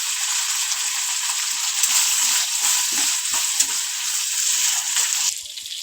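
Cut eggplant sautéing in hot oil with salt, a dense continuous sizzle and crackle held close and loud, with faint stirring movements underneath, dropping off abruptly near the end.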